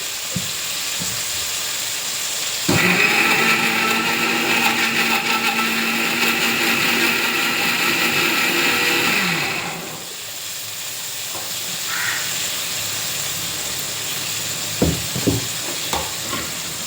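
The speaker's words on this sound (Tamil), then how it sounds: "இதை மிக்ஸி ஜாரில் அரைச்சிக்கணும்" A kitchen mixie jar grinder whirs loudly for about seven seconds with a strained, steady motor tone that drops off sharply when switched off, followed by quieter kitchen clatter and a few knocks.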